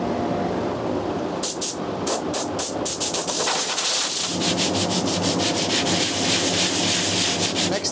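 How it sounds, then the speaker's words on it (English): Steady, loud rubbing of 80 grit sandpaper across the bonnet of an MGB GT, continuous abrasive scraping with rhythmic back-and-forth strokes and no talking. "So I've been rubbing it down with a grit 80."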